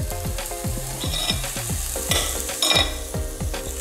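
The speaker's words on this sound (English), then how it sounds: "You can add the mushrooms whole into the pan or slice into two if you prefer" Whole mushrooms hit hot oil in a pan, crackling and sizzling close up with repeated bursts and spatters as they settle and are moved about, steady and fairly loud throughout.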